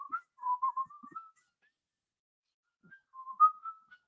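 A person whistling a tune from Snow White, two short melodic phrases with a pause between them, clear and close with no talking.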